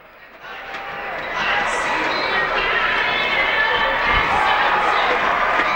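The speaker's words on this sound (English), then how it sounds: "And the crowd loving it here in the Orleans Arena." A hockey crowd in the Orleans Arena in Las Vegas roars as two players fight on the ice, a loud, sustained cheer that swells after the first second and holds steady, filling the arena.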